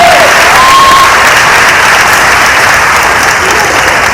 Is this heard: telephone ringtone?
no